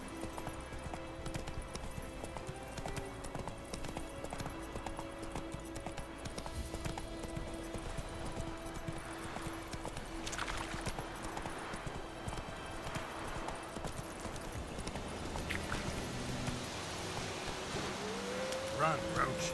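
Roach, the horse in The Witcher 3, gallops with steady hoof clip-clop over a continuous game soundscape of music and ambience, running throughout.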